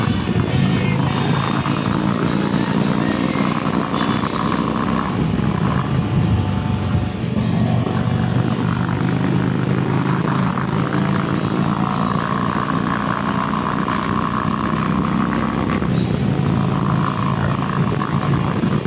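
A motorcycle rides at speed with a continuous loud engine and wind roar, with rising pitch and brief dips as it shifts up through the gears, close and steady throughout with no talk.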